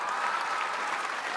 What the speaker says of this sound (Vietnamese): Cùng dành một tràng pháo tay cho Thủy Tiên và Sơn Lâm